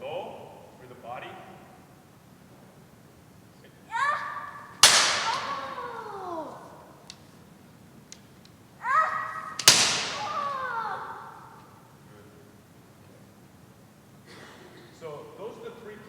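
Two sharp, loud kendo strikes to the body target during a demonstration, each a crisp bamboo-sword crack with a ringing tail, set off by shouted kiai calls and separated by a few seconds, with talking in between.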